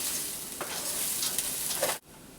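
Hainanese chicken rice ingredients sizzle steadily in a hot pan, a continuous close frying hiss with a few brief stirring scrapes, cut off abruptly near the end.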